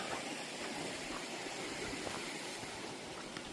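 Steady rushing water on the approach to Yongyeon waterfall near Girimsa in Gyeongju, a constant broadband roar from a fast-flowing stream, close and continuous without letup.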